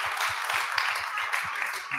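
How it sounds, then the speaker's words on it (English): Audience applause after a keynote at a lecture on energy and environmental justice, a dense, moderately distant clapping with low thumps scattered through it. "can we get another round of applause"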